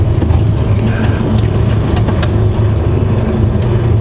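Engine of a Troller off-road vehicle running steadily at low revs while maneuvering, a constant loud rumble that fills the whole stretch without letup.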